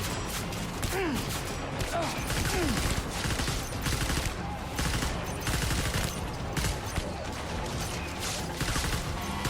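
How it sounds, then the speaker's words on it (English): Gunfire from a gun with heavy recoil in Death Stranding on PS5 Pro: dense bursts of rapid shots mixed with game noise and crashes, moderately loud and sustained throughout. "God, the recoil on this gun is insane."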